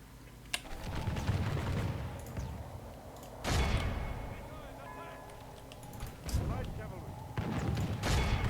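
Artillery and gunfire in the Warhammer strategy game Call of Warhammer: repeated heavy booming bursts with a dense battle din underneath, while people talk over the action.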